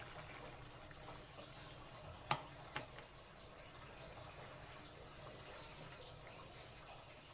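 Tamarind water poured into a simmering broad bean and garlic kuzhambu, a faint continuous watery gush with a couple of brief splashes partway through, heard quietly and close with no talking.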